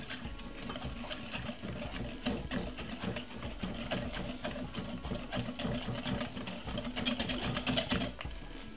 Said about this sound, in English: The next thing, add the flour. Half. Give it a whisk.